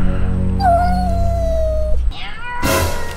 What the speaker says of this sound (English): What is that, a cat?